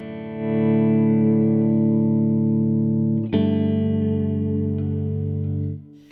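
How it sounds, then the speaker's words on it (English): A sustained electric guitar chord washed in reverb from a normal reverb pedal rings out, then a second chord is struck and lingers before fading away. "for the first one I have just like a normal reverb"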